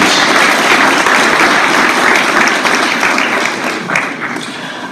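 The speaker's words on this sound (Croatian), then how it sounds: "zato vas molim dobrim pljeskom pozdravimo" Loud, sustained applause from the audience at a literary competition awards ceremony in Široki Brijeg, dense clapping holding steady before thinning slightly toward the end.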